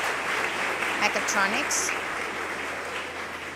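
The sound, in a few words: audience applause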